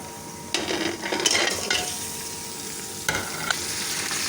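Beef mince frying in a pan with garlic, ginger and green chilies, a steady sizzle broken by a few louder scraping stirs of a spoon near the start and midway, with no talk.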